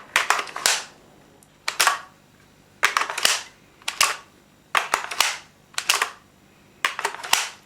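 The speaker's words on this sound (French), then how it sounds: "C'est un vrai plaisir de mettre et d'enlever le chargeur de la réplique." Metal magazine of a KSC HK53 airsoft replica, a mid-cap holding about 80 BBs, repeatedly seated and pulled out: sharp metal-on-metal clacks and slides in paired bursts, close and crisp, with no talking.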